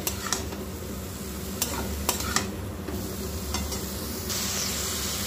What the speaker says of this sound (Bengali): এরপরে বাঁধাকপিটা মশলাটার সাথে খুব ভালোভাবে আমি এইভাবে নাড়াচাড়া করে কষিয়ে নেব।